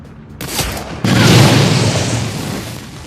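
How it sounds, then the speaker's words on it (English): Explosion after shooting an object in the video game Shadowrun: Dragonfall: a sharp hit, then a loud, heavy booming blast that rumbles on for about two seconds, alone with no talk. "What happens when I shoot this?"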